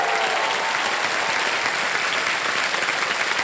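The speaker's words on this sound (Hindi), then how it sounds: "एक बार फिर तालियां बज जाए इनके लिए" A studio audience on the quiz show KBC Under 25 applauds a child contestant and his parents, a continuous, even roar of many clapping hands throughout the short stretch.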